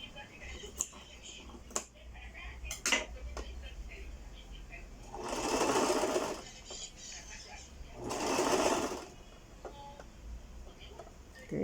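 A sewing machine stitches along the edge of a piping seam on a bodice or blouse, running in two short bursts of a few seconds each, with soft clicks and handling noises between them.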